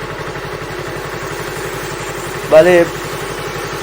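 A Yamaha MT-03 motorcycle fitted with a high air flow filter idles with a steady, even pulsing close by, while someone speaks briefly over it.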